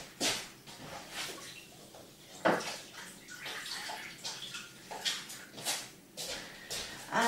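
Water runs and splashes in a kitchen sink while dishes are washed up, with intermittent gushes, clatters and swishes as items are rinsed under the tap, close and fairly quiet.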